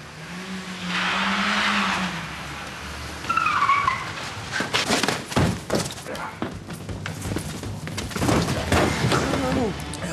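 Cars race and skid during a staged police chase for a TV crime drama, with engines revving, tyres squealing and thumps building over several seconds, and a voice briefly heard early on.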